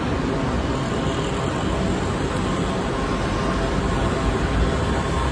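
A monorail train in Kuala Lumpur, Malaysia, heard from on board or close by as a steady broadband rumble and whoosh, loud and continuous without a break.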